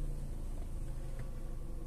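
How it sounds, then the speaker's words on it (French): Petrol Opel Astra engine with a power-loss fault and lit engine warning light, started and idling, giving a steady close low rumble with no one speaking. "on démarre la voiture"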